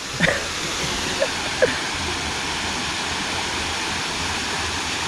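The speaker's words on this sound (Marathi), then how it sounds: "पाणी ह्या साईडचं कमी आहे, नाही तर भरपूर जोरात असतो" A small waterfall running at reduced flow gives a steady, broad rushing wash, close and even throughout, with a couple of brief voice fragments over it.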